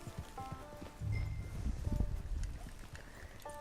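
Horse hooves in Red Dead Redemption 2, a run of soft irregular clip-clop footfalls mixed with rustling outdoor ambience, moderately close and without talk.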